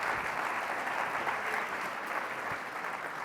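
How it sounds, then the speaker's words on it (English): Audience applause at a conference gathering, a continuous, even roar of many people clapping in a hall, loud and steady from start to finish. "would you give these folks a round of applause for the work that they are doing?"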